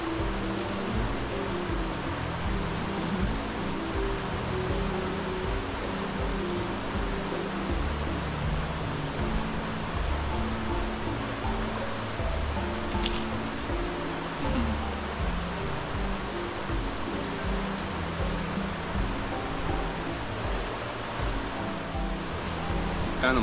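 River water flows steadily with a constant broadband rush throughout, heard outdoors at a countryside picnic spot with no one speaking.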